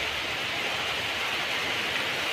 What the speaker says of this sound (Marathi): आत्ता अचानक पाऊस आला आहे